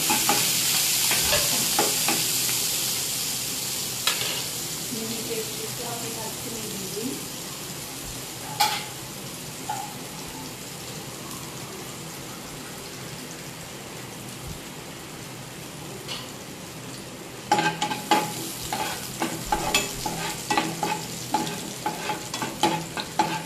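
Finely chopped onions going into hot oil in a pan, a steady soft sizzle with occasional stirring clatters and scraping, louder utensil knocks toward the end, no talking.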